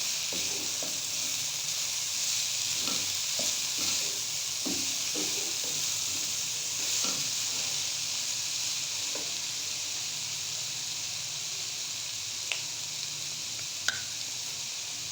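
Vegetable fried rice cooking in a pan with black pepper and salt, a steady bright sizzle broken by repeated scraping stirs early on, then quieter frying with a couple of clinks.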